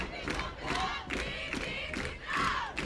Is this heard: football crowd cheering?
yes